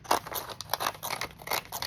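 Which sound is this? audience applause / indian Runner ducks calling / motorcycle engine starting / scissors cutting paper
scissors cutting paper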